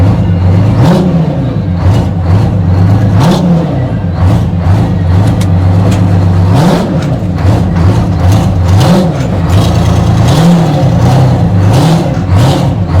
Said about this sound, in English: That engine is just screaming, waiting to just take off.